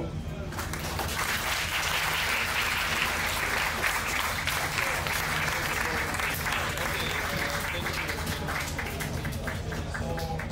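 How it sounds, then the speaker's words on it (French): Sustained, dense applause from an audience at an internationalist communist party meeting, loud and steady throughout with no break. "Des applaudissements s'il vous plaît, merci."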